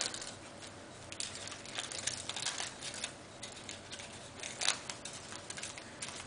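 Crinkling and soft crackling as a sheet of aluminum foil coated with hair dye is folded in half, close and quiet with a few sharper crinkles standing out.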